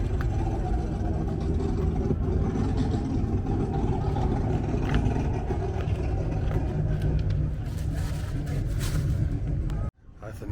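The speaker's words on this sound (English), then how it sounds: "That's a nice C10 right here, you guys. And it's turbo." Turbocharged Chevrolet C10 truck at a muscle car event in Scottsdale, its engine giving a continuous deep, close rumble that holds steady for about ten seconds before dropping out abruptly.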